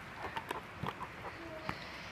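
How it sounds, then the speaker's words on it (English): Chickens clucking indoors at close range, a few short soft clucks and squawks scattered over about two seconds, fairly faint against a noisy room. "Chickens!"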